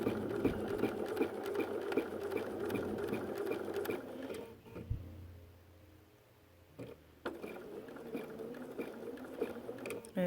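A sewing machine with a ruler foot stitches a quilt block up close in a steady rapid whir, stops for a couple of seconds of near quiet with a few clicks, then resumes stitching.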